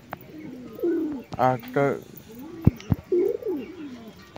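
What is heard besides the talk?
Madras pigeons cooing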